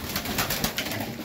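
A young highflyer pigeon coos softly and steadily at close range, with a dense, breathy background throughout.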